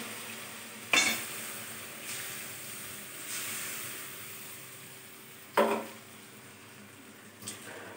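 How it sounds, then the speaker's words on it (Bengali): Spice paste loosened with a little water sautéing in a pan, a steady close sizzle with a couple of sharp clanks of a utensil against the pan and no voices. "সুন্দর করে একটু কষিয়ে নেব।"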